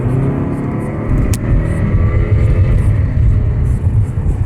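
A 2020 Mazda 3 engine rumbles loudly from inside the cabin, building steadily as it accelerates, with constant road noise and no one speaking.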